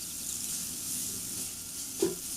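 A ground paste of garlic and shallots hits hot oil and sizzles softly as it is stirred, giving a quiet, continuous hiss with a brief scrape of the utensil near the end.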